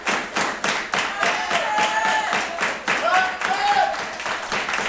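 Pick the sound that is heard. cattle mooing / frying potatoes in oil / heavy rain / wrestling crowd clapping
wrestling crowd clapping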